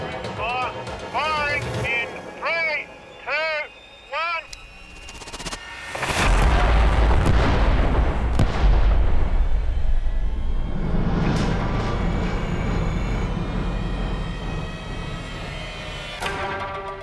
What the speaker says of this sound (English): viewing the explosion from a safe distance, where the shockwave won't exert any real pressure on us